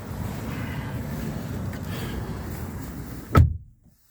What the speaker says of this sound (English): I'll let you hear what the door sounds like.